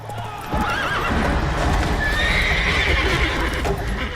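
Roach, the horse in The Witcher 3, gallops with rapid clip-clopping hooves and gives a loud whinny, all close and continuous over a few seconds.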